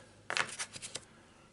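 Adventure cards from an Eldritch Horror board game shuffled by hand, a quick flurry of papery riffles lasting under a second, close and fairly soft.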